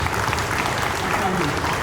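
Brief burst of continuous audience applause at a school investiture ceremony, dense and steady clapping from a crowd throughout.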